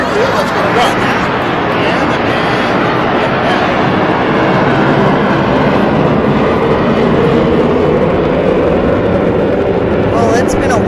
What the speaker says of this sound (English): it's been a while since we've heard a plane tonight